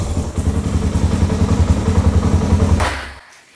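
Suzuki Djebel motorcycle engine running with the choke off, a steady close low thumping idle that carries for about three seconds before cutting out abruptly into near silence.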